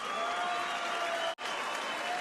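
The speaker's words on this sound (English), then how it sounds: "Ladies and gentlemen, a round of applause for two warriors." Boxing arena crowd breaks into dense, sustained applause after a fight between Junior Granados and Jamie Colan, loud continuous clapping with a brief cut partway through.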